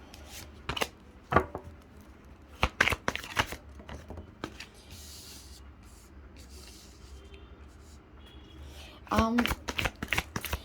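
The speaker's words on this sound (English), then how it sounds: "so while we are shuffling" Tarot cards are shuffled in several crisp, rapid bursts, close and fairly loud, with short pauses between them over a faint steady background hum.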